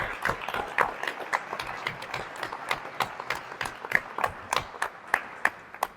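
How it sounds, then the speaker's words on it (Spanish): A modest audience at a book presentation claps for a speaker, with distinct individual hand claps forming an uneven patter that thins toward the end, fairly near and unaccompanied by voices. "Un fuerte aplauso, por favor."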